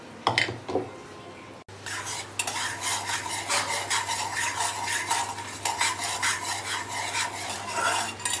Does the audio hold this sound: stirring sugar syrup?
yes